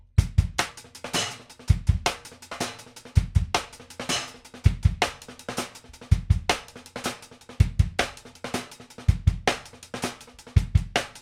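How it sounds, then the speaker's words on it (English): Fast drum and bass groove on a drum kit, with driving kick and snare hits and busy cymbals in a dense, loud, relentless pattern, played close with no voices. "when you crank it up to speed, because drum and bass is supposed to be fast, it sounds like this"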